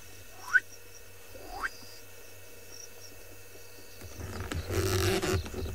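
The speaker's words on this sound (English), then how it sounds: "Here we can just hear a few crickets and some frogs going like this." Frogs call at night in the South African bush, two separate rising croaks close by against a faint, steady insect drone, followed by a rougher rustling noise toward the end.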